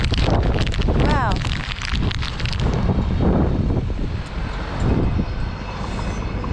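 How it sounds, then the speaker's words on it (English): Gale force wind roars and buffets the microphone in a loud, continuous rush that swells and dips outdoors during a morning animal feeding, with a voice calling out briefly over it. "Hopefully the wind will die down."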